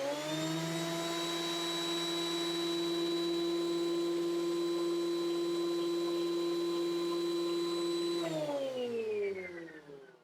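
A Maksiwa DE.750 jointer planer runs with a loud, steady motor whine and strong harmonic hum for about eight seconds, then powers down, its pitch sliding lower as it winds toward a stop.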